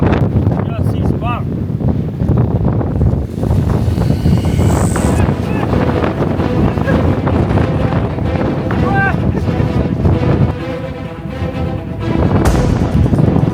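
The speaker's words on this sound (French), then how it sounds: "Il y a beaucoup de vent." Strong wind buffets a microphone outdoors in Scotland, a loud, continuous rumbling roar with gusty surges throughout, with voices heard intermittently beneath it.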